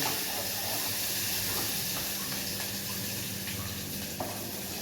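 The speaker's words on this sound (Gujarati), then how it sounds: "કાંદાનો વઘાર થઈ ગયો" Onion tempering sizzles in oil for a vegetable curry in a village kitchen, a dense steady hiss that stays even and close throughout, with faint stirring knocks and no talking.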